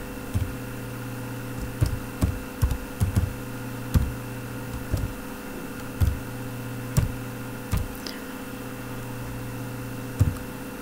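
Computer keyboard keys being tapped while writing Matlab code, a sparse, irregular run of light clicks close by over a steady electrical hum, with no talking.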